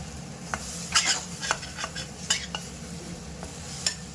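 Coconut sautés in a pan for a blood gravy, a soft steady sizzle broken by frequent scraping and tapping of a ladle against the metal.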